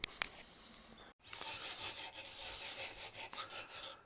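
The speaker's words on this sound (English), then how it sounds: "I'm just seeing if I can clean this off with a regular brush" Stiff brush scrubbing a rusty barbecue grate from a Hibachi BBQ being restored, a steady rasping rub that runs after a short pause, close and fairly quiet.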